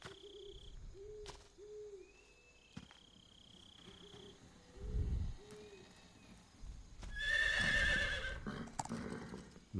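A horse in the Metal Gear Solid 3 game world whinnies in a clear rising call, with hoof clops and owl-like hoots among faint forest ambience, fairly close and fading out.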